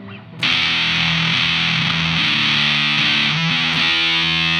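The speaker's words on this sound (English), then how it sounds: "I'm just going to add my drive." A loud, sustained electric guitar chord through an overdrive pedal kicks in after a brief quiet moment, thick and saturated with distortion, ringing steadily throughout.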